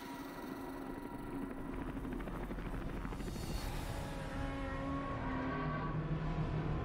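A helicopter in the video game Metal Gear Solid V The Phantom Pain makes a steady rotor and engine drone that holds at an even level throughout, with no talking over it.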